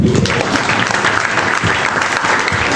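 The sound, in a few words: comedy club audience applause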